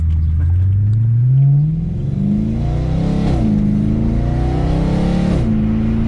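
A loud BMW E92 M3 engine, modified, revs up sharply, then pulls hard through gear changes, its pitch climbing repeatedly; close and powerful, with no voices.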